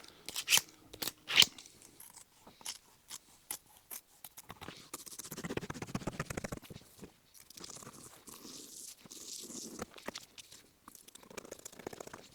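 Scissors snip and crunch through canvas, cutting out a pattern piece for a Land Rover Defender top, heard up close as irregular cuts and rustles with quiet gaps.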